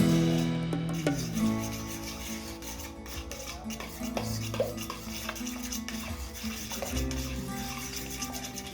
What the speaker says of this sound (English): Add the 1 cup of mashed bananas and mix again.